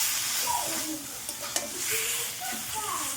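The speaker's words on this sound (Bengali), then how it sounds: "আমি যে চিকেনগুলো ছোটো ছোটো করে কুচিয়ে রেখেছিলাম সেই চিকেনটা দিয়ে দিয়েছি এইবার নাড়াচাড়া করে একটু ঢাকা দিয়ে দেবো" Small chopped chicken pieces fry in a pan for a homemade chicken pizza, a steady bright sizzle with a few scraping stirs and clinks of the spatula against the pan.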